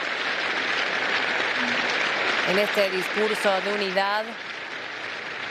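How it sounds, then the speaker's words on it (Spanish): Steady applause from an audience accompanying a speech by Zelensky, a continuous hiss of clapping throughout while someone talks over it in Spanish. "Y los aplausos que lo acompañan"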